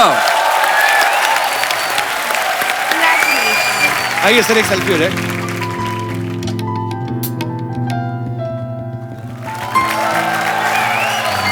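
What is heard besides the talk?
studio audience applause on The Kapil Sharma Show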